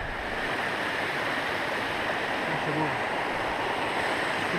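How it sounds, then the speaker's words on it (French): A small mountain waterfall near the Bionnassay glacier on the Mont Blanc massif rushes in a steady, loud, unbroken wash of water with no pauses. "Et là une petite cascade"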